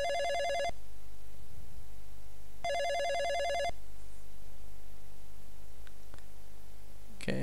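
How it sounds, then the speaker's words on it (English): Electronic telephone ringing inside the police station in Police Quest 1, two trilling bursts separated by a pause over a low background hum, loud and clear, followed by a few faint clicks. "There's the phone. It goes."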